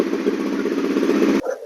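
A Honda CRF250L Rally motorcycle engine, fired up by electric start, runs with a loud close mechanical clatter and buzz for over a second before cutting off sharply.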